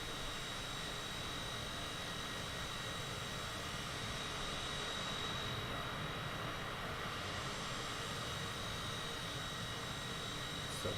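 Engines of a CJ4 Class E corporate business jet in Microsoft Flight Simulator, heard from an exterior view as a steady, continuous jet roar with a high whine, constant throughout without talk.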